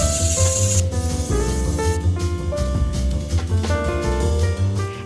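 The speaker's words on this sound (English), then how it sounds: "And sanded the surface of the bed." Sandpaper is rubbed back and forth over a wooden bed frame, giving close, steady rasping strokes over background music.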